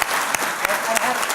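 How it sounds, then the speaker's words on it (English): Conference audience applause, a steady, loud wash of many hands clapping close by, with a few sharper individual claps standing out. "I think we should all give Cole a round of applause"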